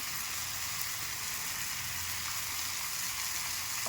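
Ingredients dry-roasting in a pan on the stove for jackfruit sambar give a steady, soft crackling sizzle that continues evenly throughout, fairly faint and close, with no voices.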